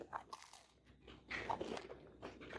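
Crunchy bread with molasses, a traditional Québécois recipe, is bitten into and chewed close to the mic, with several crisp crunches between quieter chewing pauses.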